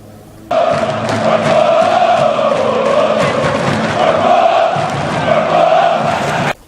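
A stadium crowd of football fans cheers and chants in one loud, continuous roar. It starts abruptly, holds steady for about six seconds, then cuts off.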